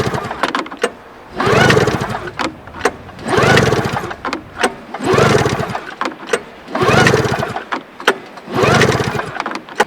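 The recoil starter cord on a Polaris RMK snowmobile is pulled repeatedly, and each of about five rhythmic pulls brings a loud, close burst of the engine turning over, with a ratcheting rasp between pulls.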